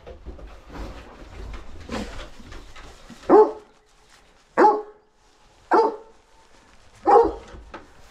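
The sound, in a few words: dog barking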